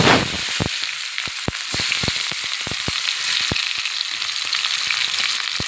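Onions, green chilies and curry leaves hitting hot oil, a loud burst of sizzling that settles into a steady hiss with sharp popping crackles scattered throughout, nearby and with no talking.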